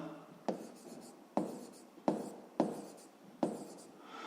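A pen scratches across paper as a math solution is written by hand, with about five short, quiet strokes spaced unevenly and a faint room hush between them.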